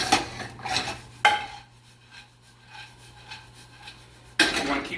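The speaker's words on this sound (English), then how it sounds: "You want to keep these almonds moving around the pan as well." Almonds being stirred around a pan for toasting, with a few sharp metallic scrapes and knocks from the utensil against the pan between quieter stretches of faint rustling, close by and without talk.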